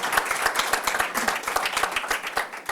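Brief applause at a school board meeting as people in the room clap for a student, with a short burst of quick, uneven claps from a small group.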